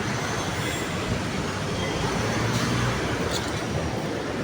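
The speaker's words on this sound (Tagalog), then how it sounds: "sakay kami train oh" A train rolls along the tracks with a loud, continuous rumble and rattle that holds steady throughout, with no voices over it.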